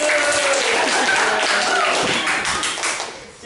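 Short burst of classroom clapping for a pupil, a dense patter of hands that fades toward the end, close and fairly loud.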